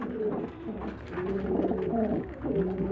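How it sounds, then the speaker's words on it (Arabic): Pigeons feed on fava beans offered from a hand, their soft repeated cooing rising and falling close by in uneven phrases, with no talking. "الحمام وهو بياكل من ايدي الفول"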